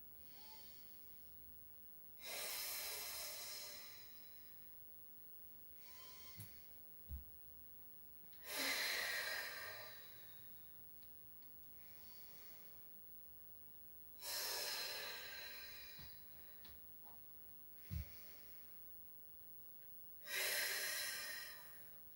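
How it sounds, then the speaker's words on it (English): Deep, audible breaths drawn during hip flexor stretches, four long broad exhalation bursts spaced a few seconds apart, close and fairly loud, with quiet pauses between them and no talking. "I'm breathing to where you can hear it"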